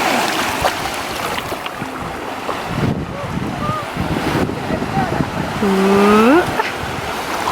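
Wind buffets the microphone at a beach in Mallorca, roaring and gusting alongside surf, while people chatter and exclaim close by.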